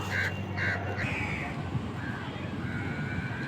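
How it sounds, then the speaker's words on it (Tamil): A crow at the beach gives a few harsh caws near the start over steady wind and surf rumble, and fainter calls follow later. "காக்காய்க்கு சோறு வைப்போமா"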